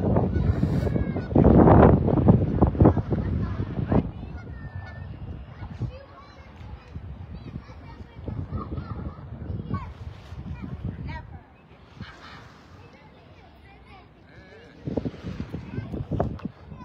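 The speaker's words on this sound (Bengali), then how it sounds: "এই যে হাঁসগুলো দেখেন বাংলাদেশের টেপি হাঁস" Tepi ducks, like those kept in Bangladesh, honk and quack in loose bursts at a Canadian waterside, some calls close and loud, others quieter, with people talking and wind noise in between.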